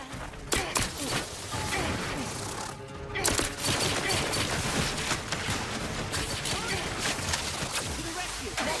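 A dense, continuous crackle of sci-fi weapon fire from a firefight in The Outer Worlds 2 rolls on with scattered sharper shots and thuds, while voices speak over the combat.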